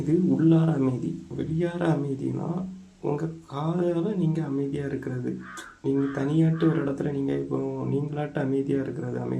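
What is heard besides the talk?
No everyday noises stand out.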